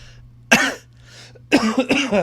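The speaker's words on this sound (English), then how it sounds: "sorry, I can't stop coughing." A person coughs several times in short, harsh bursts, close by, with brief quiet gaps between them.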